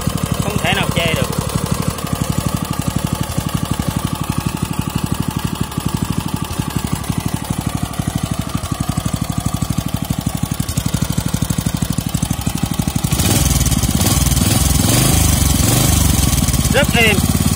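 A Kubota GS150 small stationary engine with a freshly done fuel tank runs steadily and smoothly, a low continuous throb that grows louder near the end, with someone talking over it.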